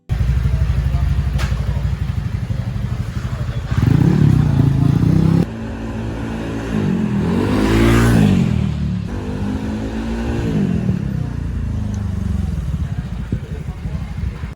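A Honda Vario 125 scooter fitted with a 58.5 mm racing block kit revs on a test drive, engine rising and falling in loud surges with wind noise and clatter.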